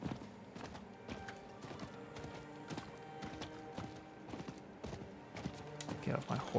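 Horse hooves clip-clop in Diablo IV, a quiet rhythmic trot of game footsteps with faint game ambience, while a player talks over it.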